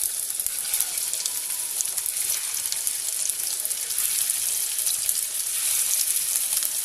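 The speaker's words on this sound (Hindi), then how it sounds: "अब इसमें एक एक करके हम सीख डाल देंगे और इसे अच्छे से हमें फ्राई करनी है।" Seekh kebabs fry in a few spoonfuls of oil in a pan, giving a steady, dense hiss of sizzling that stays even and close from start to finish with no voices.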